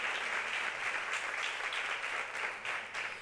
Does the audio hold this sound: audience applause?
yes